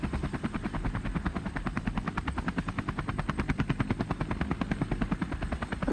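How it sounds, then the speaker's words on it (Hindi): A toy helicopter runs with a fast, steady chopping whir, its rotor pulsing evenly and close throughout. "ये देखो हेलीकॉप्टर वाह तो इसे चलाते हैं ये देखो"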